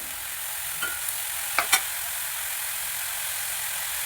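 Chopped ash gourd and coconut stir-frying in hot oil for a Kerala-style thoran, with a steady close sizzle and a few brief clicks and scrapes from stirring, no voices.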